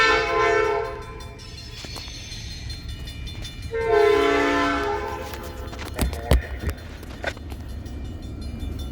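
Pickens Railroad short-line freight led by former CSX U18B diesels rolls past, its horn sounding in long blasts, with rumbling wheels and sharp clanks of cars going by.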